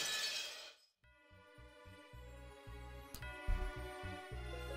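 A sharp burst of shattering glass opens a scene in the Umineko visual novel, a bright crash that cuts off abruptly, followed by a rhythmic low musical pulse with a few faint clinks layered on top.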